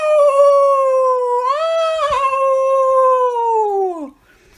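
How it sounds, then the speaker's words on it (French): A wolf in a children's tale lets out a long, loud, sustained howl that holds steady, wavers slightly in the middle, then slides downward and fades out. "il pousse des hurlements de joie d'avoir enfin trouvé à manger"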